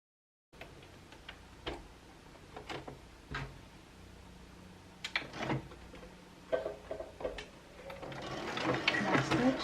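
A sewing machine stitches a shirred crop top with elastic stretched as it sews, giving irregular mechanical ticks and short whirring runs close by, building into a busier, louder stitching burst at the end.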